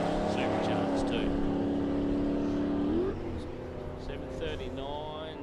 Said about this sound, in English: A few supercharged cars here this weekend.